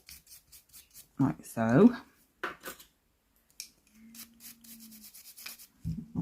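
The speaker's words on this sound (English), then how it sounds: "I'm going to get a rough brush and I'm going to just go straight over with it and dust off any excess." A rough brush dusts excess glitter off nail swatches in a few short, scratchy brushing bursts, with a brief spoken remark and a faint hum in between.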